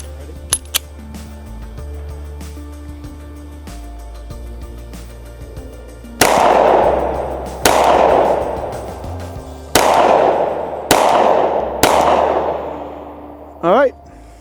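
Pistol shots fired at a range target through a Sig Sauer Romeo RS Compact red dot optic, five loud sharp reports spaced about one to two seconds apart, each with a trailing echo, after a few faint clicks.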